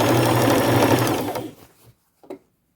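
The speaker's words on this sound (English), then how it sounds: "run a pink small straight stitch all around the bottom just to keep that lining intact." A sewing machine runs a small straight stitch around the bottom of a thrifted jacket, a loud close whir for about a second and a half that winds down and stops, followed by one brief click.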